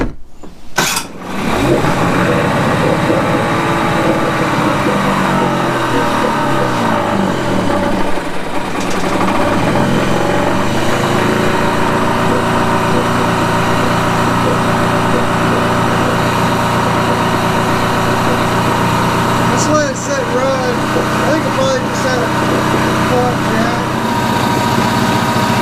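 Mercury 9.9 hp outboard motor with a suspected clogged carburetor jet fires up and settles into a steady, loud idle that runs continuously, with a brief surge near the start and a shift partway through.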